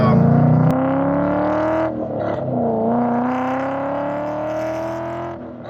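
A Ford Mustang GT V8 engine of over 500 horsepower revs hard nearby, its pitch climbing steadily in a long, loud rising roar that eases off at the end.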